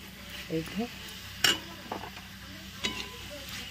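Dry spices being stirred in a frying pan over the heat in a village kitchen, with soft scraping and a few sharp clinks of the spoon against the pan over a low sizzle.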